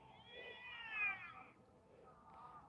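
A person imitating a cat, giving a drawn-out, wavering meow that swells and fades, followed by a quieter second meow, faint and alone on a cold night.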